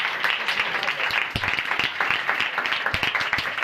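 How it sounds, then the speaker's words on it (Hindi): Energetic applause from a church congregation at a New Year service, dense clapping with sharper individual claps standing out, steady and fairly loud throughout. "आए खुदावंद यीशु के लिए जोरदार तालियां बजाएं।"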